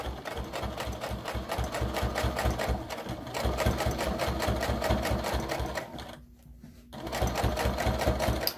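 A sewing machine top stitches a fabric makeup brush holder with a close, rhythmic mechanical chatter, briefly stopping for under a second near the end before running on.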